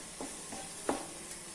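Beetroot sautéing in a pan for a stir-fry, a soft, faint sizzle with a few quick stirring scrapes spaced apart.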